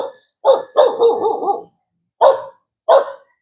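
A dog barks close by in a few bursts, a quick run of woofs followed by two separate single barks with short silences between.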